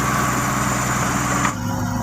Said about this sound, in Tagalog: hayaan lang natin na bulldozer ang mag-spread sa stockpile na ito.